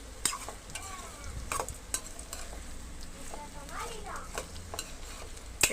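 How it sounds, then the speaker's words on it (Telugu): Ridge gourd pieces fry with onions and chillies in a hot pan, a soft continuous sizzle under repeated scraping stirs and a few sharp ladle clinks against the pan, close but fairly quiet. "కోసి పెట్టుకున్న బీరకాయ ముక్కలు గుంజేసుకుని ఇందులో వేసేసుకున్నాం ఒకసారి గట్టిగా తిక్కుని"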